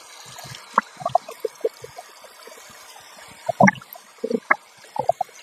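Warm water runs over venison (deer meat) as it is rinsed, giving scattered splashes and light trickling in short bursts, close and fairly quiet, with no one talking.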